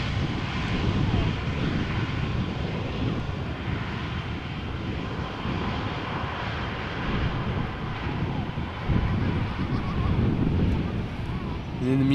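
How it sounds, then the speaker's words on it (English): Wind gusting at Amsterdam Schiphol Airport, a continuous broad roar with buffeting rumble on the microphone and a faint aircraft engine drone underneath. "The wind is now picking up somewhat."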